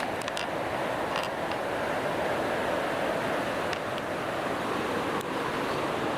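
A waterfall rushes as a steady broadband roar beside a campsite in the wild, continuous and close, with a few faint clicks over it.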